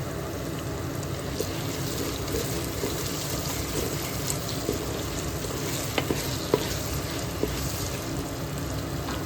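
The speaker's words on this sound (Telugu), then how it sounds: "ఇప్పుడు దీనిలో ఒక టేబుల్ స్పూన్ అల్లం వెల్లుల్లి పేస్ట్ వేసుకున్నాం" Ginger garlic paste frying in a pot for chicken matka dum biryani, a steady close sizzle with faint stirring scrapes running throughout, no talk.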